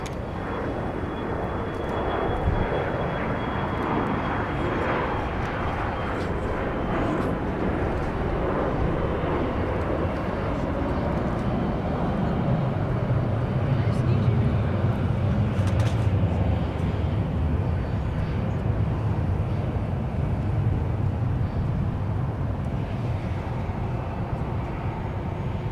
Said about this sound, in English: That was an Embraer Praetor 500.